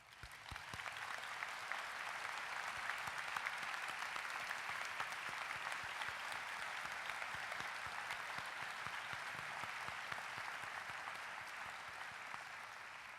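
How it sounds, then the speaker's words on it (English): A high school graduation crowd gives sustained, even applause for teachers, administrators and staff, a steady wash of many hands clapping that holds throughout at a moderate distance. "allow us an opportunity to offer a round of justly deserved applause"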